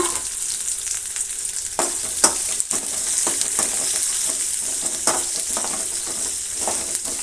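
Finely chopped onions sizzle steadily in a hot pan, with a bright continuous hiss broken by several sharp stirring scrapes and clacks, close and alone without any voices.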